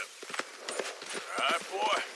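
Horse hooves from the video game Red Dead Redemption 2, a quick run of soft clip-clop beats at moderate level, mixed with game ambience and faint tonal sounds.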